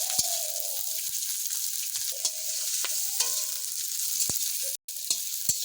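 Chopped onion and green chilli fry in white oil in a pan, giving a steady close hiss of sizzling with occasional soft clicks of stirring and no voices.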